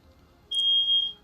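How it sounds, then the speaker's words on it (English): One long, shrill beep from a household smoke detector, sharp and steady for about half a second in an otherwise quiet room. "That is a fire alarm."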